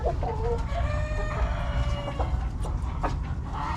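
A hen in a nesting box gives a run of drawn-out clucks and a crowing, throaty call, close and clear over a low rumbling background, with no talking.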